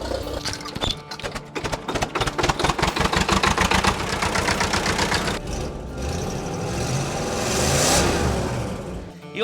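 An old engine at an agricultural and automobile museum chugs loudly and close, its rapid regular firing pulses steady at first, then smoothing into a rougher, hissing roar toward the end.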